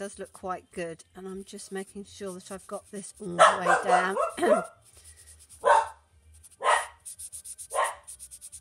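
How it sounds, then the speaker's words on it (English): Neighbour's dogs barking in short, sharp bursts, several loud barks mid-clip followed by a few spaced single barks, heard after someone talking close by. "and his dogs always bark quite a bit"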